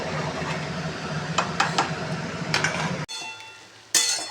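A metal pot of winter vegetables, radish and potato simmering with spices and water, clinks with utensils before a lid is set on, followed by a quiet pause and a final clink.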